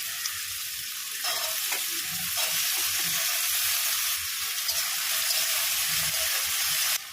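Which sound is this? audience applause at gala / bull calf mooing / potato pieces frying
potato pieces frying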